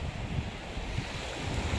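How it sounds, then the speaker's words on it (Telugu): Sea waves roll and break on a busy beach, a steady, close wash of surf with rushing wind noise throughout and no voices. "నీళ్ళు అయితే అలలు కొడుతూ వస్తున్నాయి"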